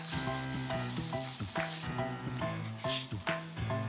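Onions and peppers softening in a hot pan for shakshuka, a loud steady sizzle with close clinks of a spoon or spatula stirring against the pan.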